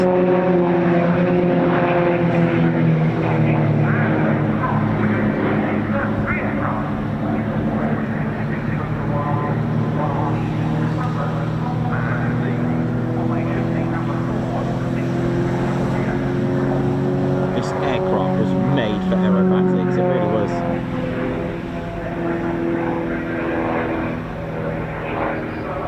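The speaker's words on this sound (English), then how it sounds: "We got to know this aircraft through the Titans and the fantastic display from Melanie Astle" Propeller aircraft flying a display at the Royal International Air Tattoo 2025: a loud, steady engine drone with layered humming tones runs the whole time, swelling slightly in pitch toward the end.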